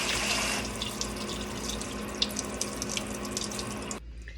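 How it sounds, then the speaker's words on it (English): Running kitchen tap water rinsing a six-bean medley in a sink, a steady close splashing rush with small spatters, then the flow cuts off abruptly near the end. "I'm going to rinse a 6-bean medley"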